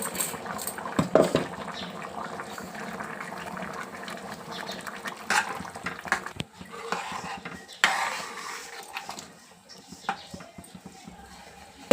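Chana dal and lentil filling bubbling in a pot on low heat, a steady soft simmer with occasional pops and clinks of a utensil against the pot.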